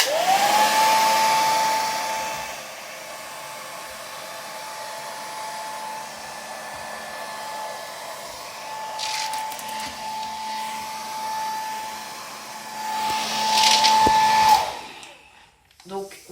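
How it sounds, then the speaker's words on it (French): A mother's hair dryer blows hot air onto erasable pen writing in a heat test, a loud, steady whirring rush with a whine that runs for most of the clip before switching off. "Pour faire le test de chaleur, nous disposons du sèche-cheveux de ma mère."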